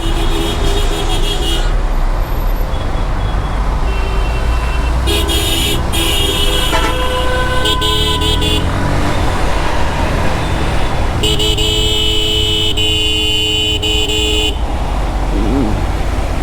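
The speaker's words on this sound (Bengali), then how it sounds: "ক্ষীরক্ষেতের এই জায়গাটাতে লোকাল বাস দাঁড়ায়া মানে জায়গাটারে পুরো জ্যাম বানায় ফেলছে" Congested road traffic at Khilkhet where local buses stop, with repeated car and bus horns honking over a constant loud rumble of engines, close by and continuous.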